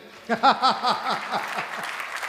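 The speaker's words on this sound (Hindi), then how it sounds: "इस बात पे तो खुद मफतलाल जी की वाइफ ने ताली बजा दी भाई साहब" Audience at a Hindi comedy poetry recital breaks into applause, a burst of clapping that swells quickly, peaks near the start, then gradually thins and fades, with a faint voice at the edges.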